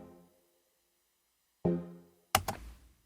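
A wavetable synth chord built from analog saw waves, with no processing, sounds dry: a fading tail, a silent gap, then another chord struck with a sharp attack, followed by two short percussive hits close together.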